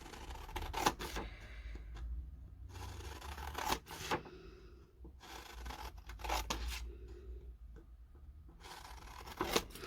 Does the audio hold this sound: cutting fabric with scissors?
yes